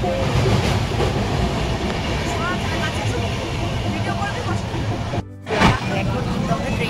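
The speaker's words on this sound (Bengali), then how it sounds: "এখন কিন্তু আমরা ট্রেনে আছি" Train running on rails near Bardhaman, with steady loud rumble and rattle throughout and a brief drop around a passing gap before the roar returns; speech is tagged but no clear talk stands out.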